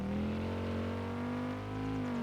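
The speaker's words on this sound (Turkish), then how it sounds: "arabanın sesi güzel ya" A steady car engine hum in Car For Sale Simulator 2023, with a slight rise in pitch, droning continuously and close, with no talking over it.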